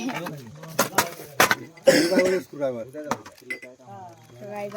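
Metal pot lid lifted off during outdoor cooking of popti, a Marathi winter dish made over a bonfire, with a burst of clanking around the middle, surrounded by people talking nearby.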